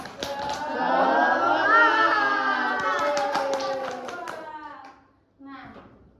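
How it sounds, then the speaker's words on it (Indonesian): A classroom of children does a rhythmic spirit clap, quick sharp hand claps mixed with their loud chanting voices, ending in a brief pause before a short final burst. "Tepuk semangat"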